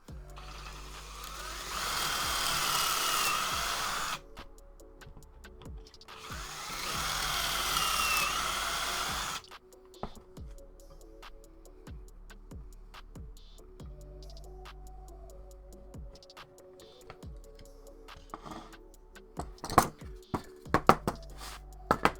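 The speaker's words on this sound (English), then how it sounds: "we're going to drill away." A drill whirs loudly in two sustained bursts while drilling pocket holes with a Kreg 320 pocket hole jig, followed by scattered clicks, taps and light knocks of tools being handled nearby.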